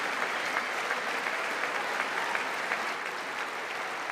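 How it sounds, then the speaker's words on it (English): Sustained applause from a large audience at the State of the Union, dense continuous clapping filling the hall at an even, loud level from start to finish. "She's been standing up and clapping through all of it"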